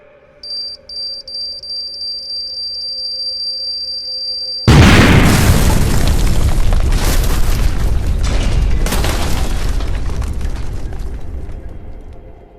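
Mines planted in walls detonate in a sudden loud boom that cuts off a faint steady high tone, followed by a long roaring, crackling rumble of debris that slowly fades over several seconds.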